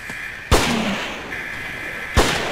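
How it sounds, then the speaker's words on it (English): Two sharp revolver gunshots in the survival horror game Siren, spaced well apart, each a loud broadband crack over a steady tonal game ambience. "Oh, shot too soon."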